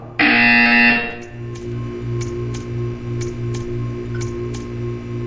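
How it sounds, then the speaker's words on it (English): In the Portal 2 video game, a loud harsh electronic buzzer sounds for about a second. It gives way to a quieter, steady pulsing hum under a regular ticking. "When you hear the buzzer, stare at the art."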